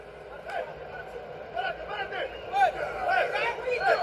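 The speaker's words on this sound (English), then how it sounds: "I have never seen a crowd this quiet in my life." A very quiet wrestling crowd at a WWE show in Saudi Arabia gives off only sparse, low murmuring and scattered chatter, with someone talking over the subdued arena.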